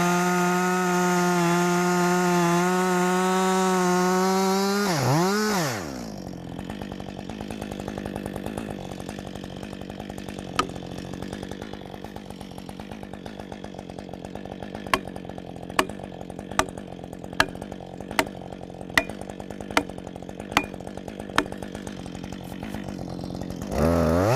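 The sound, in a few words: chainsaw cutting through log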